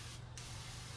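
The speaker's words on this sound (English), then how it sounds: "Spray the inside of the spoon." Mr Hobby Gundam Marker airbrush spraying paint into the inside of a spoon, a steady close hiss with a brief change in the middle, alone without talk.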